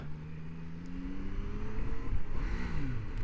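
2025 Triumph Tiger Sport 800 engine revving as a gear shift is missed, a rising whine that climbs, breaks off and swoops again over road and wind noise.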